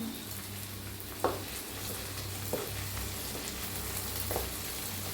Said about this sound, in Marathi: थोडंसं तेल वतायचं गरम झाले त्याच्यात टाकायचा असा कढीपत्ता कढीपत्त्याला जरा भाजून घेऊया